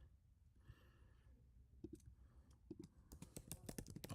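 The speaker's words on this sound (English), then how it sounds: "I'm typing over to you guys now as well." Typing on a computer keyboard at a desk, quiet scattered clicks that build into faster, louder bursts of keystrokes toward the end, heard alone.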